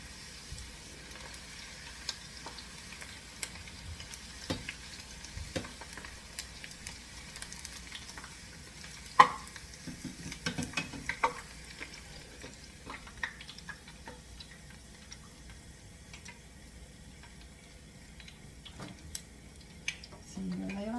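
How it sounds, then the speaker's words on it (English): Potato chips frying in hot oil make a faint, low bubbling sizzle dotted with scattered ticks and pops, heard at a distance and fairly quiet throughout. "You won't see them frying, but you'll see them when they come out."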